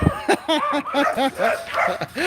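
Dogs barking in a quick run of short, clipped barks and yaps, fairly close and loud, with little else around them.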